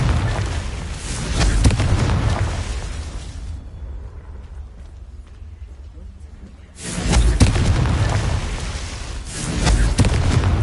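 Confringo explosive curse blasts in Hogwarts Legacy on PS5 boom loudly in bursts, a quieter stretch in the middle, then heavy blasts return amid game noise and occasional speech.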